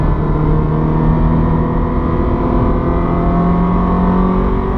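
A Ferrari F430 engine pulls hard on the Eastern Creek race track, a loud, steady, rising drone with strong harmonic whine heard from inside the car, continuous and with no voices.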